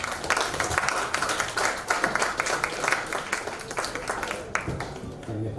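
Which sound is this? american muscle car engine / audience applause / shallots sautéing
audience applause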